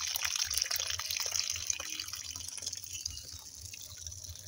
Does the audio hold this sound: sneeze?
no